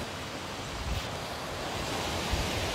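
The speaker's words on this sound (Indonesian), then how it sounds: "Ini curugnya, air terjunnya, air terjun Curug Cigentis." Curug Cigentis waterfall pours with a steady, even rush of falling water at moderate distance, a constant broadband roar with no voices.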